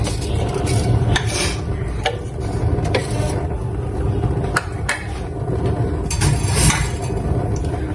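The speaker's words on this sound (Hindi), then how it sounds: "और इसको अच्छे से भून लेंगे।" Whole coriander and cumin seeds dry roasting in a pan for Hyderabadi baghare baingan. A steady, dense scraping rattle runs throughout, with sharp stirring clicks scattered every second or so.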